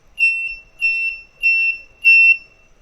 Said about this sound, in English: we're getting the light and the buzzing of Morse code here